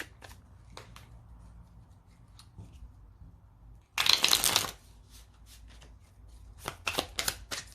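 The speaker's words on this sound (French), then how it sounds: "maintenant, on va prendre une petite carte des 22 étincelles de vie" Oracle cards from a 22 sparks of life deck being shuffled, with one loud riffle burst midway and a few softer card flicks and taps around it in a quiet room.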